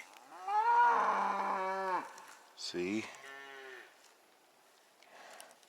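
A large, seemingly aggressive cow moos loudly and close by along a hiking trail, one long drawn-out call followed by a shorter second moo, with a brief spoken word in between.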